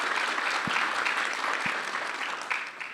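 A conference audience at a closing ceremony applauds steadily, a dense wash of many hands clapping at moderate distance with no talk over it.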